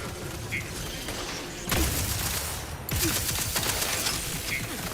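Bursts of gunfire from a sci-fi shooter game, The Outer Worlds 2, arrive in two dense stretches of rapid, crackling shots over a steady background of game ambience.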